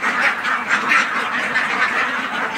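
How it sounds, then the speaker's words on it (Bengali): Ducks kept on a fish pond quack repeatedly in a dense, overlapping chorus, close and continuous without a break. "দেখতে পাচ্ছেন এই যে জায়গায় হাঁস রয়েছে"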